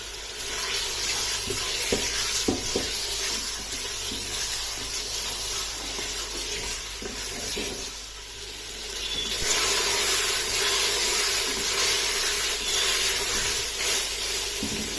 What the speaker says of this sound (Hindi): अब मटन को इसमें 6 से 7 मिनट तक भून लेना है